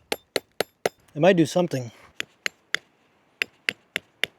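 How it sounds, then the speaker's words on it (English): A rock hammers a metal tent stake into hard ground at a motorcycle campsite in South Texas: sharp, clinking strikes in quick regular sets, four before a brief spoken remark and six after. "I'm gonna look for a big rock to hammer this thing down"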